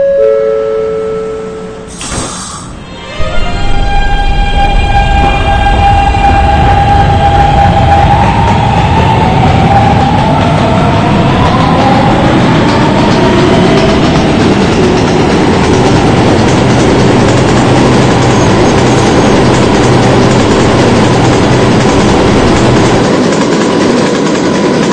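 A subway train in the Roblox game PTA Subway departs after a short door chime, its motor whine rising and settling into a loud, steady rumble and rattle as it runs, with no voices.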